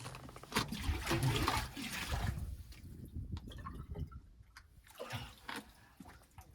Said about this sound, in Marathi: तुम्हाला पाणी भरून दाखवतो बघा